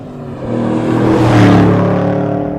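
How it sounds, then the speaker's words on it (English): A 2010-2015 Chevrolet Camaro SS with a Borla performance exhaust revs once, close and loud, its deep growl rising to a peak and then easing off, with no voices. "shape the sound to give it a real distinct and unique muscle car growl"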